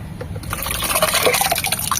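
Water splashes and gurgles as it is poured into a container to mix a betel leaf solution for plants, a steady liquid fill rising slightly in level with small drips and sloshes.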